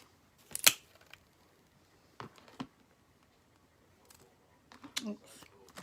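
Scissors trimming paper during an Easter egg craft project, with a few short separate snipping bursts between quiet gaps, close by.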